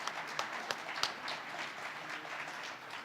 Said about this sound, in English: Please give them a round of applause for all their work setting this up.